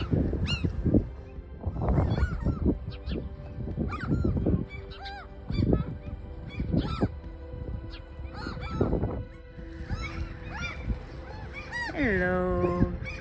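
Near water in summer, seagulls honk and squawk loudly in bursts while a crow's call is mixed in among them, with a person speaking softly at times.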